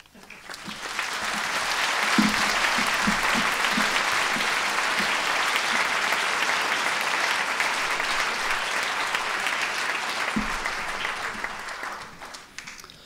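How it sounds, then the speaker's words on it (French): Sustained audience applause fills the hall at a literary festival opening in Brussels, a dense steady roar of clapping lasting over ten seconds before tapering off, with a few louder nearby claps and brief voices underneath. "Sous vos applaudissements."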